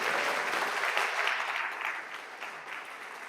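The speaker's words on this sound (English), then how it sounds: "You can applaud to that too." Applause from a church congregation during a Sunday morning service at All Souls in Tulsa, a steady dense clapping that holds loud for a few seconds and then eases slightly.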